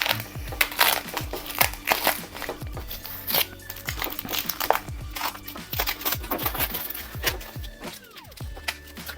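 Plastic packaging around a carbon drone propeller is crinkled and crushed open up close, a dense run of loud rustles and crackles with sharp spikes throughout, no voices.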